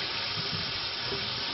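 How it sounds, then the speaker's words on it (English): Tap water pours steadily over a whole raw chicken in a sink, a constant dense rushing splash, close and fairly loud, with no voices. "I'm going to give the bird a really nice rinse."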